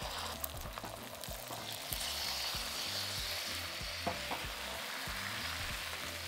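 Egg mixture frying in a hot oiled wok for a thin omelette, a steady close sizzle with scattered scraping taps of a utensil moving it around the pan.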